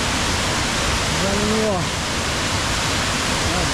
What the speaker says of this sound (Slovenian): Tu je ta slap, evo, slap.